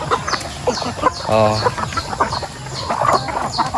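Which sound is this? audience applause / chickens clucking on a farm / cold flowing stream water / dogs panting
chickens clucking on a farm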